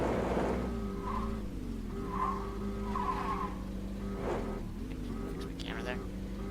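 A Sparlin car in a driving game accelerates with a loud continuous engine drone that rises and dips through gear changes, with faint tire squeal and someone talking over it.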